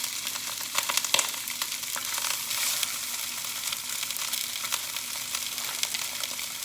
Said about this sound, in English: We're gonna go ahead and throw in our sausage into this pan because it's really hot